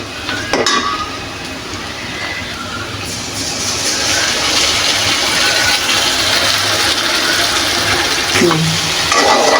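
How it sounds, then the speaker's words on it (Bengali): Spice paste with ground spices sizzles steadily in hot oil for an egg and potato curry, a continuous bright frying hiss that grows slightly louder, with a few faint clinks of a utensil against the pan. "মশলাটা ভালো করে কষিয়ে নিব।"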